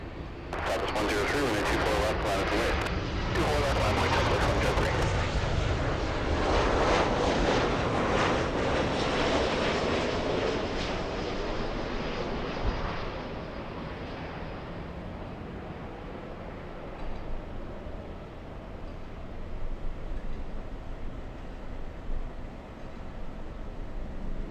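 A Southwest airliner arriving from Denver on its landing approach at LAX, a loud jet roar that builds and then fades into a distant rumble, with people talking over it.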